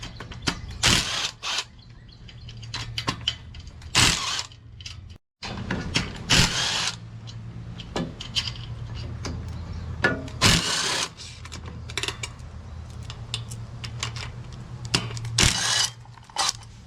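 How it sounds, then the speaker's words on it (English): Valve covers come off a Gravely zero-turn mower engine during servicing, producing scattered metallic clicks, ratcheting and knocks of tools and parts in irregular bursts, close up with brief pauses. "so we're going to take the valve covers off."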